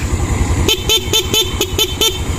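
A Haojue motorcycle horn honks in quick repeated bursts, about six short toots in a row, close and loud over a low idling engine.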